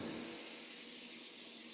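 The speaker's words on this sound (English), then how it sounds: "Rubbing our palms together, breathing deeply" Palms rubbing together in a steady, continuous dry swish during a qigong session, close and fairly quiet, with no talking over it.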